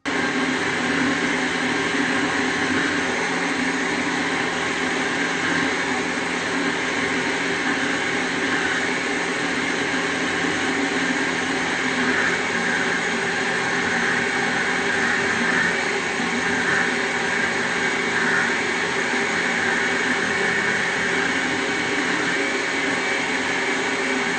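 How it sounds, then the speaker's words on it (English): An Ufesa Deluxe blender running with water in its jar, a steady loud whirring motor drone that stays constant throughout without pauses. "Make of my blender, it's Ufesa"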